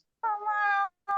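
A cat gives a long, clear meow close by, then starts a second, shorter one a moment later, with silence around them.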